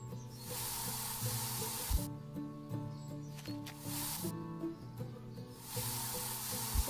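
Weed spray hisses from a sprayer in the cozy apocalypse survival game I Am Future, three long broadband bursts of steady hissing separated by short pauses, laid over low game music.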